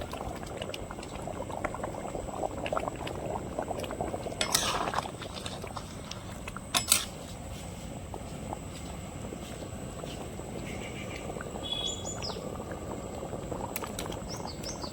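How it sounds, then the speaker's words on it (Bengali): Egg curry gravy with fried eggs bubbles in a pot, a continuous low burbling simmer heard up close, with a couple of brief clinks and a faint rushing background, no one talking. "ঝোল ফুটে গেছে।"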